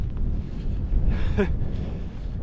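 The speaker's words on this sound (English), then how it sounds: "the wind's died down here quite significantly, he says, and then the wind picks up" Wind buffets the microphone on an exposed Peak District hill walk, a steady low rumbling roar with no speech.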